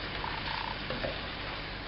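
Steady, dense sizzle of stuffed bitter gourds frying lightly in a pan, a continuous close hiss with faint clinks, no voices.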